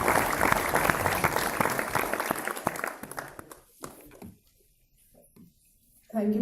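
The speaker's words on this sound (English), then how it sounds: "Can we have a huge round of applause?" Audience at the ISTD 2019 national conference breaks into a loud round of applause that fades out after about four seconds, leaving near silence before a voice begins at the end.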